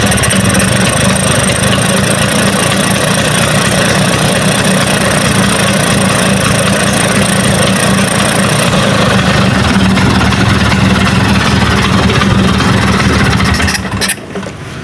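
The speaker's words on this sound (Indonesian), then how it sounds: "Coba kita gas sedikit ya." A Vespa Sprint scooter engine with a fault where the lights dim when switched on, running loud, close and steady throughout before cutting off abruptly near the end, with no talking.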